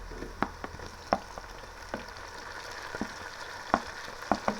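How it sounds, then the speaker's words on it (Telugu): Onions fry in oil for chicken fry biryani with a steady low sizzle, and occasional stirring clinks and scrapes punctuate it. No one speaks. "ఉల్లిపాయలు మొత్తం ఒకే కలర్ వచ్చేలాగా వేపుకోవాలి మనము"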